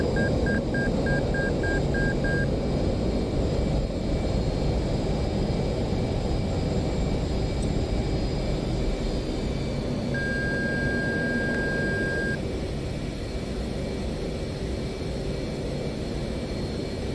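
A jet's engine roars steadily in the DCS World flight simulator as the throttle is pushed up, with a run of short electronic beeps early on and a longer tone later over the drone.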